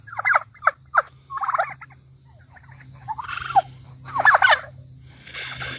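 Turkeys on a farm with Red Bourbon, Blue Slate and Royal Palm birds give close, loud gobbles in quick rattling bursts, several in a row, then another round, over a low steady background hum.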